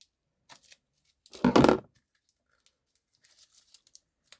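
Scissors snip through ribbon packaging during a craft supply unboxing: one loud central burst of cutting and crinkling plastic, followed by faint scattered rustles and ticks, with no talking.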